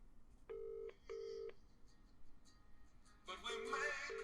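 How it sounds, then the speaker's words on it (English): A mobile phone ringtone plays faintly as short repeating electronic tone pulses in two quick pairs, then returns beneath a burst of louder noise and voices. "I'm going to ring you, and so we can see"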